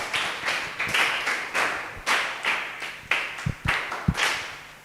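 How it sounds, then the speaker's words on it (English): A school group claps in a steady, rhythmic beat during a maths lesson, around ten sharp claps close by with no talking. "Give him a heavy hand clap."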